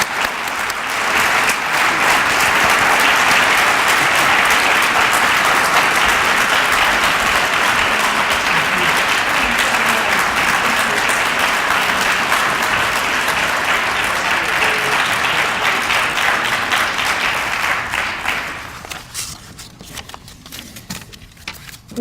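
An audience at a 2014 retirement celebration gives a long, loud, sustained round of applause for the retiree's leadership, dense clapping that continues evenly for about eighteen seconds before thinning and fading out.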